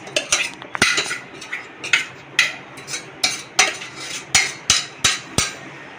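A spoon repeatedly clanks and scrapes against a metal pan while tempering is mixed into potatoes for a samosa filling. The loud, close knocks and rattles come in a steady, fast rhythm, with a faint sizzle underneath.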